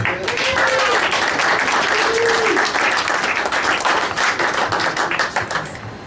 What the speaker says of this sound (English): Nice round of applause for Carmen, please.